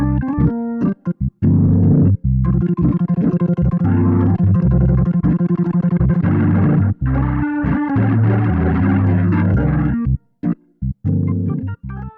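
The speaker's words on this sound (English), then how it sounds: "The tube distortion has been completely changed and can now scream much more than before" A B5 organ plays chords and short stabs through a gritty, overdriven tube distortion, with brief gaps of silence between phrases.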